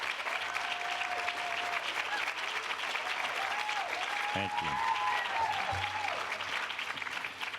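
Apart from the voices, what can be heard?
conference audience applause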